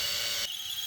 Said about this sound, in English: Let's drill the holes out and see how it fits on the bike.